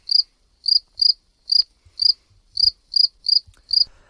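A cricket chirps alone in near silence, its bright, pulsed calls repeating at a steady rhythm about twice per second, each call sharp and clear against a faint low background.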